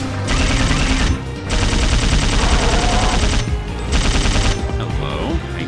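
Rapid submachine gun bursts from Dino Crisis 2, loud and dense, in three long sustained volleys separated by brief pauses, with no talk.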